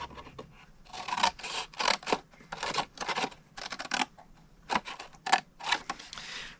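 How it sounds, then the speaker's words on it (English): Scissors cut cardstock along score lines for a slide-puzzle treat box, giving a series of short, close, crisp snipping and rasping strokes in irregular bursts with brief pauses between them and no talking. "go to the next 2 score lines and cut it to the second"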